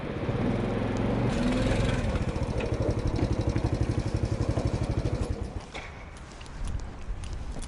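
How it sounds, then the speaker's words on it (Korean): A postman's motorcycle rides into a school in the Jirisan mountains, its engine loud and close with a steady chugging pulse, then dropping away and easing to a lower, rougher idle toward the end. "오토바이가 학교로 들어섭니다"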